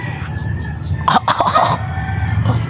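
A rooster crows once, a short, strained call rising over a low background hum, close to the listener and heard on its own without talk.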